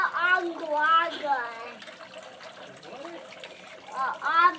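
A young boy splashes and plays with water from a water fountain, the trickle and splatter running under his chatter and babbling throughout.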